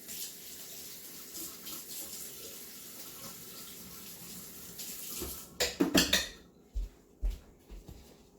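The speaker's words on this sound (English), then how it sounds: "Let's rinse that back out again" Something being rinsed under running water: a steady faucet stream, followed by a burst of louder splashing and clinking from dishes or metal, then a few scattered knocks.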